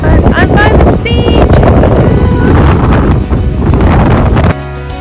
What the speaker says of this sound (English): it is super cold and super windy